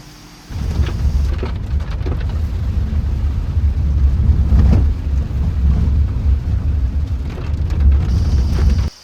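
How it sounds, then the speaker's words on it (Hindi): Heavy rain falling in a thunderstorm near Jim Corbett, a dense, loud, continuous hiss and patter that starts abruptly and holds steady, with deep rumbling underneath and no voices. "बारिश तो पड़ ही रही है, फिर भी आ गए हम।"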